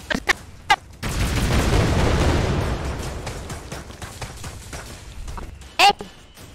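Rocket launcher blasts and gunfire in a VR shooter: a couple of sharp pops, then a long roaring explosion lasting several seconds that fades into scattered smaller bursts, ending with one loud close crack.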